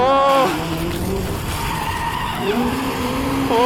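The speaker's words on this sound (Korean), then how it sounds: "이런 식으로 사륜 드리프트 모션이 그냥 나오고 있어요." A Hyundai RN24 electric performance car, 650 horsepower, drifting with tires skidding and squealing in long sliding howls, loud and close, with a whining electric motor rising and falling underneath.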